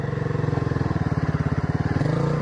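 A motorcycle engine idles and chugs steadily nearby with a fast, even pulsing throb that shifts pitch slightly near the end; no talk over it.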